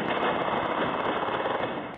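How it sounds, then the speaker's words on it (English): Sustained gunfire from automatic weapons during a real shooting, a rapid continuous stream of shots, loud and steady for the whole stretch with no pause. "You can hear automatic gunfire erupt around 8 p.m. Thursday"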